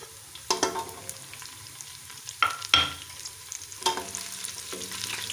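Sliced onions and green chilies fry in a pan with a steady low sizzle. A spoon scrapes and clacks against the pan several times, sharply and close by.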